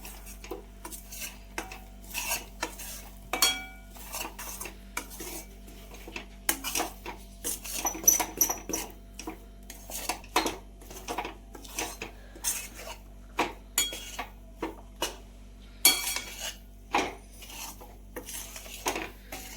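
A sesame seed mixture is stirred in a pan, a dry rasping scrape of spoon against metal repeating in quick irregular strokes over a faint constant hum, close up and unaccompanied by speech.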